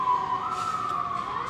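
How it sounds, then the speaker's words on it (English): A siren wails steadily, its tone held with a slight waver, moderately loud as if passing nearby on the street. "that's siren"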